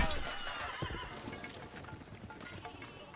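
A horse in the Civilization 5 video game whinnies shrilly, with hoofbeats and battle noise beneath it, fading over a few seconds while someone talks quietly in the background.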